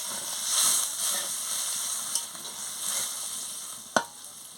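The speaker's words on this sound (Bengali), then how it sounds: "আমি পরিমাণ মতন জলটা দিয়ে দিচ্ছি। দিয়ে ভালো করে একটু নাড়িয়ে নিচ্ছি।" Puti fish curry in a frying pan after water is added, a soft steady simmering hiss with occasional spatula scrapes and one sharp clack near the end.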